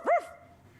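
A single sharp dog bark, loud and close, with a short yelping rise that fades into a quiet tail and brief room noise.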